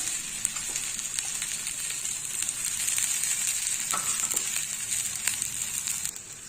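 Bun dosa frying on a hot pan, a steady soft sizzle with crackling bursts running throughout, moderately close with no talking.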